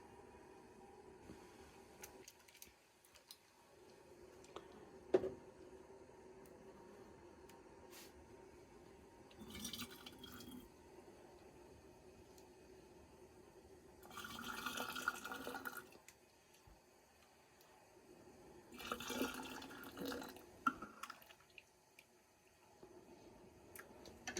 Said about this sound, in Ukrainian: Можна розливати його у слоїки.